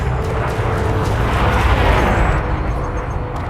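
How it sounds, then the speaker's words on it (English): A spaceship explodes in the space game Elite Dangerous, a loud, close, rumbling blast with a sustained roar that slowly fades, with no talk. "That sounds like an explosion."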